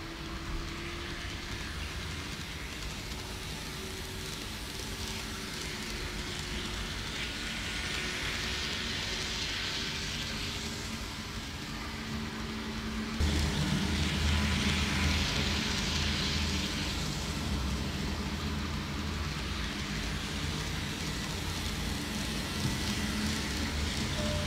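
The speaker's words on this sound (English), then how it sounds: "And now we're ready to give it a run, see how it goes." A Kato N-gauge Glacier Express model train set runs steadily on its track, a continuous low rumbling hum that grows slightly louder and heavier partway through, with no talking.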